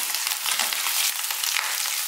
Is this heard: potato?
yes